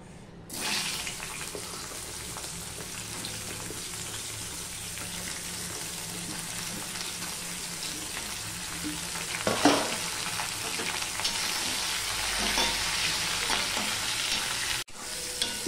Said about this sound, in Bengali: পটলগুলো সবার আগে আমি ভেজে নেব।